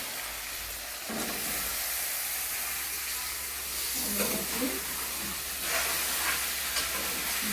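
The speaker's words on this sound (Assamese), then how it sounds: "এতিয়া দেখিছেনে মাংসখিনি ধুনীয়াকৈ ফ্ৰাই হৈ গৈছে। এতিয়া মই ইয়াতে অমিতাখিনি দি দিম।" Goat meat frying in hot oil with papaya stirred in, a soft, continuous sizzle and hiss with a few scraping stirs, close by and quiet, and no one speaking.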